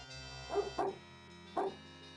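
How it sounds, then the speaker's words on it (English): A few short dog barks or yips, three quick bursts spread over about two seconds, heard fairly close against a quiet tonal background with no talk. "There was a thing that mentioned a dog, like dog noises,"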